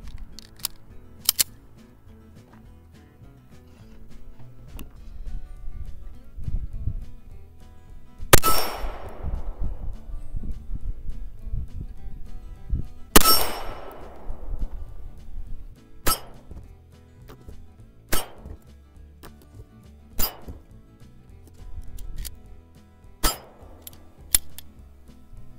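Regular ammunition fired in a test session, with a few sharp, loud reports spaced several seconds apart, each ringing out with a decaying tail, followed by lighter metallic clinks between and after the shots.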